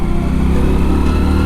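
An old motorbike's engine drones loudly and steadily while riding along a rough road, a constant buzzing hum with no speech.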